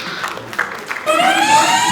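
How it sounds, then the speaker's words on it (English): An audience applauds at a foundation's first-anniversary celebration: a second of dense, steady clapping from a crowd, which then gives way to a brighter, sustained tonal sound over continued crowd noise. "Please a round of applause for them."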